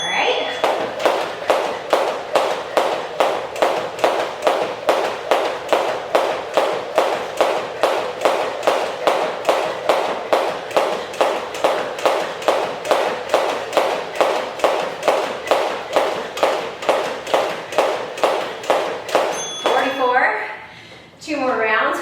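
A weighted jump rope, about a pound and a half, slapping the floor during a high-intensity workout, with steady rhythmic thuds roughly twice a second for about twenty seconds, close and loud, then a brief pause and a clatter.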